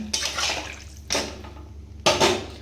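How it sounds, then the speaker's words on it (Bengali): Water poured into a pan for a Bengali fish curry with potato and pointed gourd, arriving as three separate splashing pours, each a short burst of liquid rush that fades, close by with no talking. "এই যে জল এনে রেখেছি, জলটা ঢেলে দেবো"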